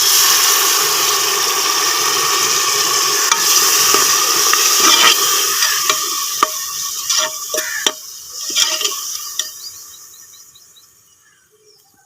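Steady loud sizzling of water added to lightly browned ingredients in a hot pan, gradually fading and thinning toward the end, with a few sharp clicks and clinks.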